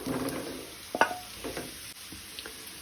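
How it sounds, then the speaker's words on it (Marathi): Potatoes go into onions frying on low gas in a pan for Goan potato bhaji. A short clatter and scrape sound over a soft, close sizzle. "आता कांदो तळसून जालो, तातूंत हांव बटाट घालता।"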